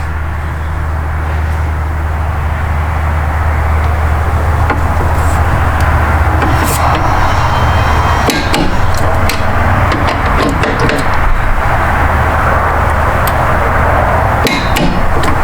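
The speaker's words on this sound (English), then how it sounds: "Then what we can do is actually torque these down." A torque wrench tightens the rear strut brace bolts to 28 Nm on a BMW G80 M3 while a carbon strut brace is being fitted. It gives a few sharp metallic clicks over a loud, steady background noise.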